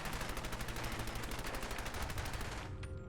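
Rapid automatic gunfire from the Fallout video game strikes the ground, a dense continuous burst of shots that cuts off near the end.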